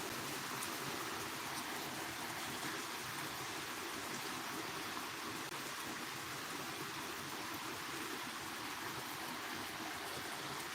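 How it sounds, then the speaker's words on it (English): Rain falls steadily as a soft, even wash of noise, faint and distant in tone, with no voices. "Swan, look at the rain."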